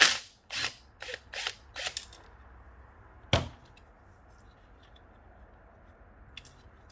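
Shift detent mechanism struck during a Suzuki SV650 engine teardown, giving a series of sharp metallic clicks and knocks followed by one louder clack and a faint later tick, close and alone.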